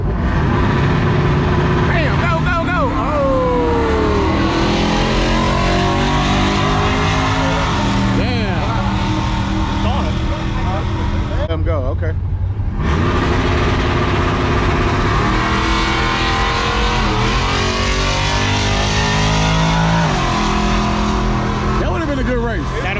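Ford and Chevy trucks at a summer truck meet rev loudly and race, engines roaring continuously close by with pitch sweeps as they accelerate, under people talking.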